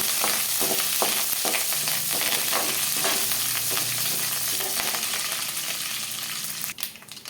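Whole dried red chillies frying in oil for a raw mango pachadi, a steady close crackling sizzle with small pops and stirring, no talk.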